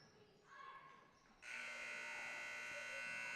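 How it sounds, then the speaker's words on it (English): A loud, sustained electronic final buzzer ends a high school girls' basketball game in a gym, cutting in sharply after faint crowd noise and holding steady to the end. "as the final buzzer sounds,"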